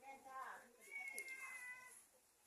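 A cat meows a few times in a household during a midday meal, the calls rising and falling close by and moderately loud, with people chatting around it.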